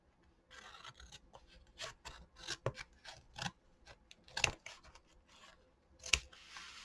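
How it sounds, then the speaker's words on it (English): Scissors cutting paper for a junk journal collage, a series of close, quiet snips and rustling paper handling, irregular and unhurried, with no talking. "And I need to cut that off because I made it go down the page a little bit."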